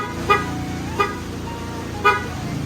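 Three short honks of a car horn sound over a steady engine hum, the last one a bit louder.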